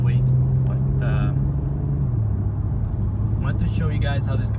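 An Infiniti Q50S Red Sport's engine hums in a low, steady drone while driving, with a slight drop in pitch partway through, and a person talks briefly over the rumble.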